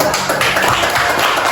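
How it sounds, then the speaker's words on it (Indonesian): Applause for a student group in a classroom presentation: dense, steady clapping fills the short stretch at close range, with no speech over it. "Tepuk tangan untuk kelompok"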